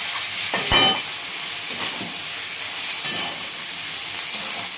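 Boiled lentils go into a hot pan for a broad bean and dal curry, setting off a steady, close sizzling hiss with a few stirring knocks.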